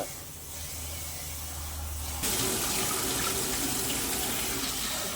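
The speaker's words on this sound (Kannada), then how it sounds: "ನೋಡಿ ಅಕ್ಕಿನ ತೊಗರಿಬೇಳೆ ಚೆನ್ನಾಗಿ ತೊಳ್ಕೊತಾ ಇದ್ದಾಳೆ" Rice and toor dal being washed in water for bisibele bath, a steady running-water rush of a tap filling and splashing in a vessel, growing slightly louder partway through, with no voices.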